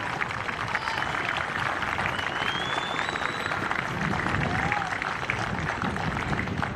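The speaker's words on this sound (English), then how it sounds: "Can we please have one more round of applause for both teams who put on a show for us today?" Outdoor crowd applause at a football cup final between Hume City and Avondale FC at C.B Smith Reserve, a steady dense patter of clapping held throughout, with some faint background voices mixed in.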